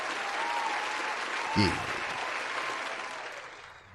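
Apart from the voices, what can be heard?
hand claps applause sound effect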